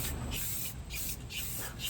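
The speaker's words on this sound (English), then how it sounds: "That's what I'm going to spray on now." Aerosol spray paint hissing out in several short, close bursts with brief pauses between them, sprayed onto furniture being prepped for painting.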